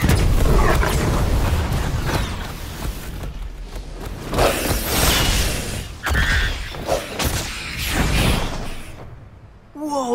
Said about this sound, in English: They're shooting off fireworks!